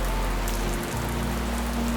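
Gentle rain falls steadily on a surface as a soft, even hiss with a low rumble beneath, continuous and unbroken with no voices.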